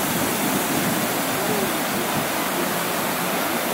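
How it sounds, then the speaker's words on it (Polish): A large fountain in Moscow sprays water from its nozzles, giving a steady, loud rushing hiss that fills the whole stretch without pause. "czuję, jak nie smagają kropelki tej wody, która tutaj wylewa się z tych dysz"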